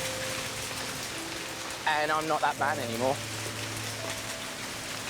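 Steady rain falls on a remote survival island, a continuous hissing wash of drops throughout, while someone speaks briefly over it in the middle.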